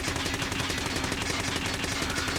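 Automatic weapon test-fired in a shooter video game, a continuous rapid burst of evenly spaced shots, loud and close, with no talking.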